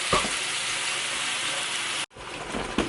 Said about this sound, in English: So right now we're just browning the meat